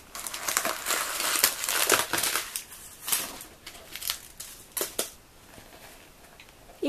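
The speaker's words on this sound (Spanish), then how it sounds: "Voy a sacar lo que viene dentro," Papers being pulled out of a small bag, a steady run of close crinkling and rustling with sharp crackles and brief pauses, no voices.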